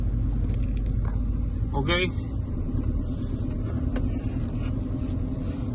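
A Mercedes-Benz car with a loss-of-power fault (code P008A) drives with a low, steady engine and road rumble. A voice speaks briefly over it near the start.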